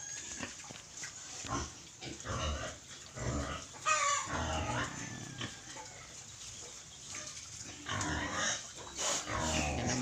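Native pigs in a rural provincial pen, grunting and squealing continuously in a busy chorus, with other farm animals faintly in the mix.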